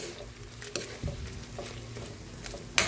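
Butter garlic shrimp fries in a pan, with a steady sizzle and a few stirring scrapes and taps heard up close at moderate volume.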